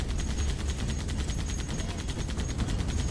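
Rapid automatic fire from a mounted turret in the Halo video game, a dense continuous stream of shots, loud and close throughout the short burst.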